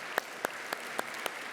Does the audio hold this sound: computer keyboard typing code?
no